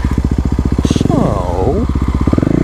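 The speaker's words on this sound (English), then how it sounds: "Let's do a little dirt burnout." A Kawasaki KLX250 dirt bike thumps at close range with a loud, rapid single-cylinder pulse, then revs up sharply in the middle for a dirt burnout before settling back to its chugging beat.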